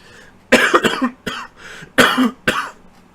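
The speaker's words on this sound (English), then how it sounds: "So, I actually coughed." A person coughs in several harsh bursts, a pair followed by a single one and another pair, close and fairly loud, with no talking.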